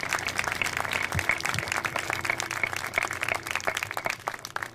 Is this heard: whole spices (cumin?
no